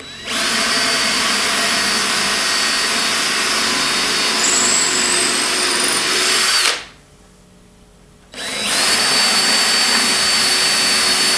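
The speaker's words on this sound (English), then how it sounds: "So I'm just drilling these out," A power drill bores holes in a wooden step with a loud, steady high whine, breaking off abruptly for a short pause before starting again at full speed.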